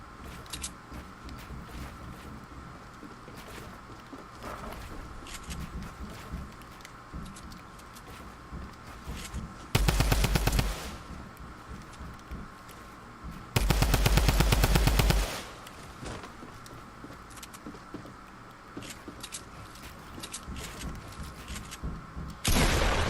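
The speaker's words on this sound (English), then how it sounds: "So this is one of those gunfights we're going to have to take." Gunfight in the video game Fortnite, with repeated bursts of automatic gunfire, two loud sustained volleys standing out over a steady background of scattered shots and game noise.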